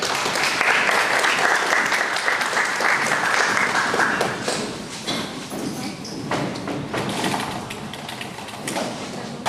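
A lecture audience gives a warm welcome with sustained, dense clapping for several seconds, thinning out and fading gradually among scattered claps and room noise.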